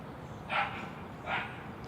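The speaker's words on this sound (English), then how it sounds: "the dogs are barking" Two dogs bark in the distance, two short separate bursts about a second apart, faint over a steady low background hum with no talking.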